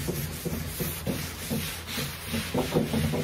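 Wet rag wiping acid crystals off a wooden surface, a steady series of soft, close rubbing and scrubbing strokes in an uneven rhythm, with no talking.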